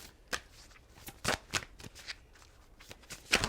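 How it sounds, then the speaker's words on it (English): Tarot cards are shuffled in a series of quick, crisp riffles and snaps, close up and fairly quiet, with brief pauses between bursts. "We're going to shuffle and pull some cards."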